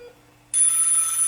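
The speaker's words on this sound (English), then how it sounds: "Phone's ringing." A hospital telephone bell starts ringing suddenly and keeps going steadily, a bright sustained ring in a quiet room with no one talking over it.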